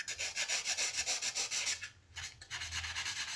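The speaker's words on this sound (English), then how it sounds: "lightly sand the opposite side of your earring as well" Light sanding on the side of a wire-wrapped earring, a steady rhythmic rubbing with quick repeated strokes, close and clear, pausing briefly about two-thirds through before resuming.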